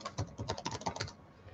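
Quick run of keystrokes on a computer keyboard as a username is typed, about a second of close, crisp clicking that stops abruptly and leaves quiet room tone.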